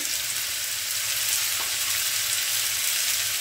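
Potatoes frying with sesame seeds give off a steady, even hiss of sizzling oil, close and continuous for a few seconds, with no talking.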